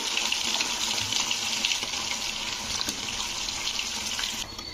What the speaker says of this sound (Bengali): তো এখানে জলটা আমার কিন্তু ফুটে এসছে, তো এবারে আমি এঁচড়গুলো দিয়ে দেবো এর মধ্যে।